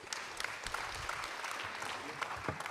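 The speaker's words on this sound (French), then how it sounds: "Je pense que vous pouvez les applaudir." Faint, steady applause from an audience at a French conference closing session, sustained patter throughout without clear voices.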